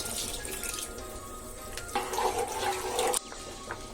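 Bean cooking water poured into a pot while making mochai puli kulambu, a Tamil tamarind curry, in a home kitchen: a steady liquid splash that grows louder for a second or so, then stops abruptly.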